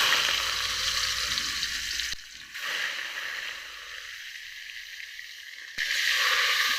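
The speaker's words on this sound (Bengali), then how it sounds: "মাছগুলোকে কিন্তু আমি 2 ভাগে ভেজে নেব" Chitol fish pieces sizzle and crackle in hot oil, a steady loud fry that dips briefly twice as pieces settle, close up with no voices.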